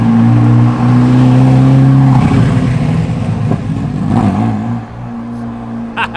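A Ferrari F40 drives past, its engine a loud, steady droning roar that shifts in pitch as it goes by and then fades.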